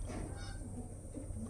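Active, restless Punjabi pigeons in a cage make faint honking coos over a steady background hum and rustle, without speech.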